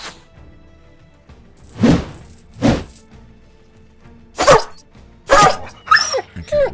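A dog in the Battle Brothers video game barks and yelps in sharp separate bursts, about five loud close barks spread across the stretch with silence between them, alongside game effects and no talking.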